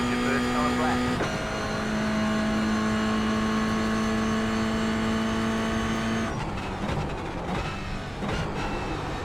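A race car on a timed lap at Zandvoort circuit gives a loud, close, sustained engine whine with steady pitch, then shifts and revs more roughly in the final seconds.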